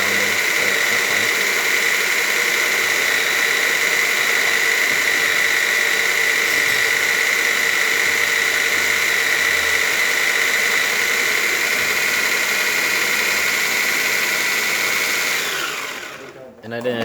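Baratza Sette 270wi coffee grinder whirring in a steady high-pitched drone for about fifteen seconds before winding down and stopping abruptly.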